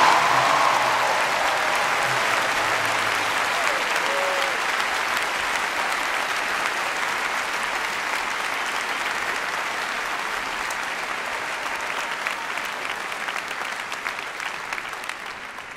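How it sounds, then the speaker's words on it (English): Sustained audience applause for a graduating class at a postgraduate graduation ceremony, a dense, even wash of clapping from a large crowd that fades slightly toward the end. "Please join me in a round of applause to the graduating class."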